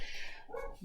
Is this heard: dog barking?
yes